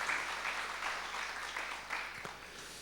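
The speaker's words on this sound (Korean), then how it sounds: "우리 크게 박수로 한번 격려해 드립시다" A church congregation applauding during an early-morning prayer service, a steady patter of many hands clapping, faint and roomy, rising and falling slightly in waves.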